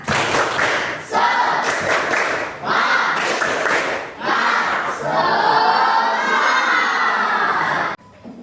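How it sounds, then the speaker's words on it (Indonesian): Schoolchildren in an Indonesian classroom do a rhythmic clapping chant, bursts of claps and young voices in quick patterned sets, loud and close, ending in a longer sustained shout of many children before a sudden stop. "kita tepuk-tepuk dulu ya. Tepuk semangat."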